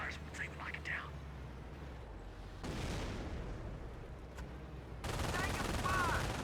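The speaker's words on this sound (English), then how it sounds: "Taking rifle fire!" Dense, continuous battlefield gunfire in the World War II strategy game Company of Heroes: steady rifle and machine-gun crackle that swells in intensity, with in-game voices calling out over it.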